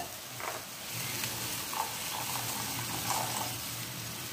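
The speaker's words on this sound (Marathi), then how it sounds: "आता याच्यात टाकायचे पाणी" Water pours into a hot cooking pan holding browned garlic, red chilli powder and salt, giving a steady, close running and splashing sound with a faint sizzle underneath.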